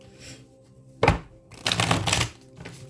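A deck of tarot cards is shuffled close by, with a sharp slap followed by a longer run of rapid riffling and flicking, then quieter handling.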